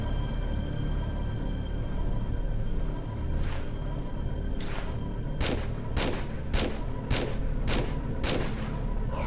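Gunfire from the Tomb Raider Level Editor game, a series of five or six sharp shots spaced about half a second apart over a steady low game ambience, with one fainter shot before them.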